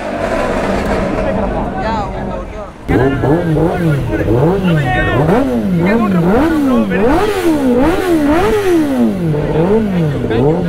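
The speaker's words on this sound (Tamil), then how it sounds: "ஸோ அந்த மஸ்டாங்கில் தான் வந்து இந்த சவுண்டு வருது" A Ford Mustang's engine revs repeatedly up and down in loud, close, rising-and-falling sweeps after a steadier idle, with voices talking over it.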